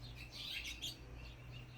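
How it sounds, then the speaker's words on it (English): Birds chirp and tweet in a container garden, several quick high calls clustered in the first second over a steady low hum, fairly faint and without talk. "the birds then came out"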